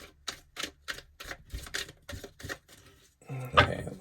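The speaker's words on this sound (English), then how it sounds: "I'm going to do 2 more shuffles here." Tarot cards being shuffled by hand: a run of quick, evenly spaced riffling bursts, close and crisp, followed by a louder, denser clatter as the deck is squared near the end.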